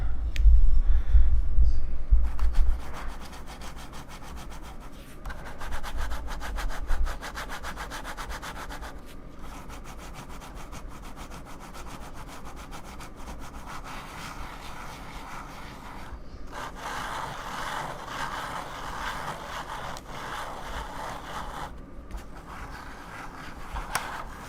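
A Razer DeathAdder mouse's feet scratch back and forth across a mousepad, a close, continuous dry rubbing with rhythmic swells, after a brief low thump at the start.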